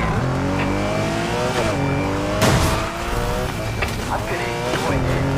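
A Porsche 911 Carrera GTS in Need for Speed Heat, racing through a night police pursuit: the engine revs loud and close, pitch climbing and dropping through gear changes, with a brief tire squeal.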